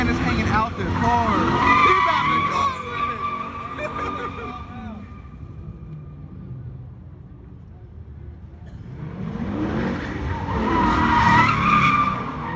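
A Ram 1500 pickup performs a burnout nearby, its tires squealing loudly, fading to a quieter stretch midway, then building again, with people talking over the noise.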